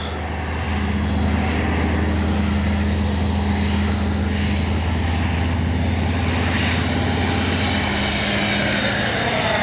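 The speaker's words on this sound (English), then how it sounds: "Oh, what a great flying little plane." An FMS 64mm F/A-18 Hornet RC electric ducted-fan jet flying overhead, a loud continuous whine and rushing hum that holds steady throughout, with no talk.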